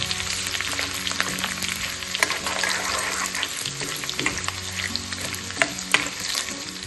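Crushed garlic and cumin sauté in a pan for a radish-leaf dish, crackling with a continuous close sizzle broken by light stirring clicks and pops.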